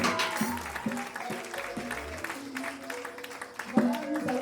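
A church congregation at a wedding service claps along while voices chant and sing acclamations to the Lord, with steady applause mixed beneath the singing.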